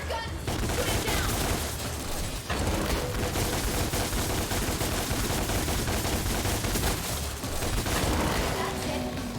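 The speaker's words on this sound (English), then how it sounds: "Now use your gun." Sustained gunfire from Devil May Cry rattles in a dense, continuous fusillade of rapid shots, loud and close throughout, mixed with game music and effects, with a short break partway through.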